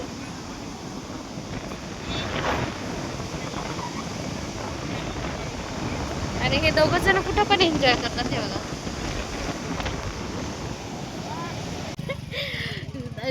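Sea waves and gusting wind on a rain-swept Konkan beach at Shrivardhan, a steady broadband wash with wind buffeting the microphone, while people talk over it throughout.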